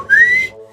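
A bright melodic whistle rising steadily in pitch over a backing track in a song, sustained for about half a second and then fading out.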